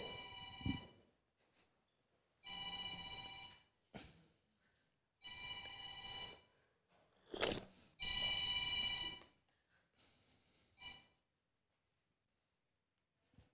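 Telephone ringing in repeated bursts with short gaps, several rings in a row, fairly clear and alone with no talk over it.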